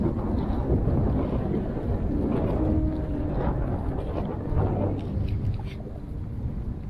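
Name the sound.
wind and snow on Mount Rainier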